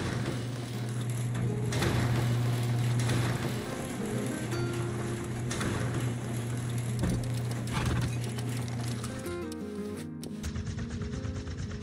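A horse in the survival video game Rust Console Edition gives steady clip-clopping hoofbeats throughout, with occasional neighs. The sound is continuous and fairly close against in-game ambience, with no talking.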